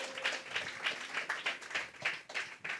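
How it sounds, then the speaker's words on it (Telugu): A church congregation at a Telugu Christian sermon claps loudly and rhythmically in steady, evenly spaced beats, close and continuous across the whole stretch with no voices over it. "కొట్టుగట్టిగా చప్పట్లు."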